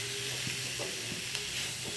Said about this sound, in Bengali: এই যে কুমড়োটা ভাজা হয়ে গেছে, এবার জলটা দিয়ে দেবো